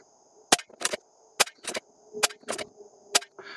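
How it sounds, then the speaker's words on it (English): Stoeger XM1 Scout .22 or .25 PCP airgun firing at a target, about seven sharp cracks in uneven succession, each with a short ringing decay, over a steady faint high tone. "I just shot 5 at that, and it looks like a pretty good group."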